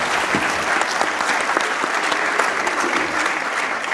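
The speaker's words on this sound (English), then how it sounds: "Please give them a round of applause." Audience applause for panelists at the close of an evening heart and stroke dialogue event, a steady dense wash of many hands clapping throughout with no talk over it.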